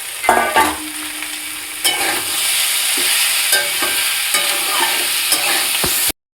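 Bitter gourd pieces going into a pan and frying in mustard paste, loud close sizzling with clattering spoon scrapes at irregular intervals, ending in an abrupt cut to silence; no one speaks.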